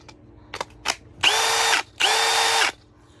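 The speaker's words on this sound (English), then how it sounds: "That's on the older drill." An older Milwaukee M18 Fuel cordless drill, its battery at a low charge, runs in two loud, steady bursts of under a second each, preceded by a few faint clicks and separated by a short pause.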